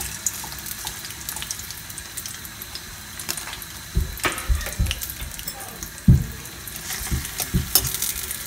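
Potato pieces sizzle in hot olive oil in a home kitchen, a steady crackling fry broken by louder bursts and clatters as the pieces are stirred and moved.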